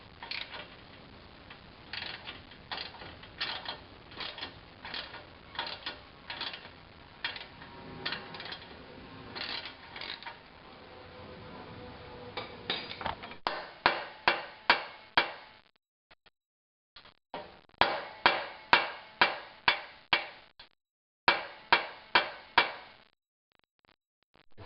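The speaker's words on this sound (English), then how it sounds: "Just got that nut split, and it took off enough pressure where you can get it off the rest of the way with the vice grips" Nut splitter cracking a seized nut, a series of sharp metallic clicks and ratcheting snaps, steady at first, then in quick bursts separated by short silences, close and fairly loud with no talking.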